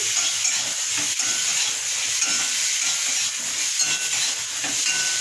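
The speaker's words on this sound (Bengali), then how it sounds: "ভেজে রাখা আলুগুলো আমি ওর মধ্যে দিয়ে দিয়ে আলুর সাথে টমেটো ভালো করে মিশিয়ে নিচ্ছি" Pan of fried potatoes and tomatoes being stirred over the heat, a constant loud sizzle and hiss with frequent spatula scrapes against the pan, no voices.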